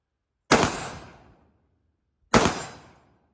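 Two sharp AR-15 rifle shots fired at hogs outdoors, spaced about two seconds apart, each a loud crack trailing off in a long fading echo, with silence between.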